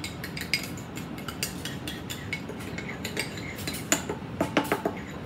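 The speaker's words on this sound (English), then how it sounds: "And then I'm just gonna stir it up." A metal utensil stirs a sweet oil-based dressing with sugar in a bowl, making light, irregular clinks and scrapes that grow a little busier toward the end.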